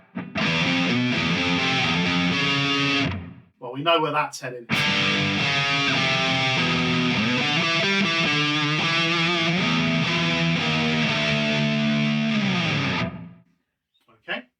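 A NUX MG-101 multi-effects unit on its Puppets Distortion setting drives an electric guitar into a loud, saturated, heavily distorted riff. The riff plays continuously for about thirteen seconds with a brief gap near the start, and a short spoken line comes at the end.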